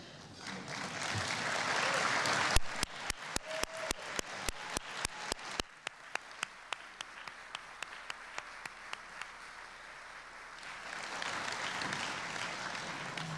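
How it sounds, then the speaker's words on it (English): Parents in the audience at a University of Maryland awards program receive applause: clapping for a few seconds, then a run of sharp regular clicks, a quieter lull, and the applause swelling again near the end. "I'd like the parents in the audience to please stand, because we want to applaud you,"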